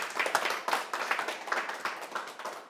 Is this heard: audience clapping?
yes